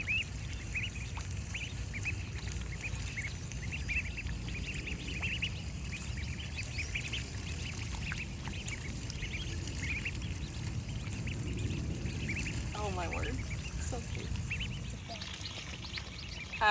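Small backyard waterfall trickling steadily under scattered duck quacks, the quacking sparse and moderately close over a continuous soft wash of running water.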